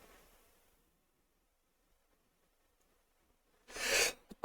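A single sharp sneeze bursts out near the end after several seconds of near silence, loud and close, followed by a brief breathy tail.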